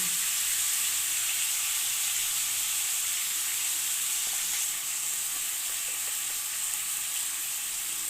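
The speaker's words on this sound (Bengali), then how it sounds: "এবারে দিয়ে দেবো কেটে রাখা টমেটোগুলো" Chopped tomatoes hitting a hot pan for a Bengali tomato chutney, giving a steady, loud broadband sizzle that hisses evenly throughout with no voices.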